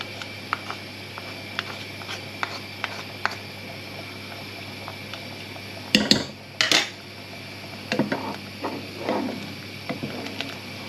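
A spoon scrapes and knocks against a cooking pot of steak and kidney pudding filling, a few sparse faint taps followed by several loud, close clattering scrapes in short bursts, no talking.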